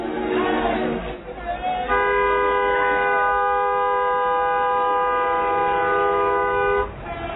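A train runs with steady rail rumble, then a long, loud multi-tone horn sounds for about five seconds and cuts off, with voices faintly present at the start.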